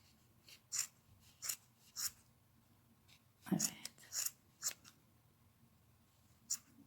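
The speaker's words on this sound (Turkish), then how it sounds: "şöyle tekrar kesilmemişleri de kesiyorum" Sharp scissors snipping knitting yarn, several short crisp cuts spaced irregularly, close and quiet in a calm room.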